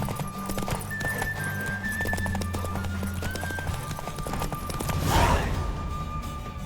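Horse hooves gallop in steady rapid clip-clop through The Witcher 3, the beats running continuously under a music tone, with a louder rushing swell near the end.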